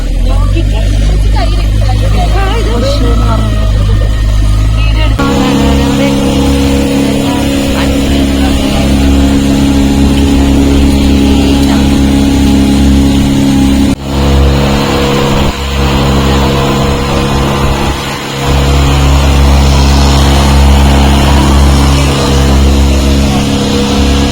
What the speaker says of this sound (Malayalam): Glass boat.